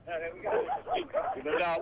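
Dogs at a flooded property give several high, yipping barks and whines in quick succession, close by and mixed with a person talking.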